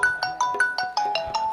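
A mobile phone ringtone plays loud and close, a bright repeating electronic melody of quick chiming notes at an even pulse, with no talking over it.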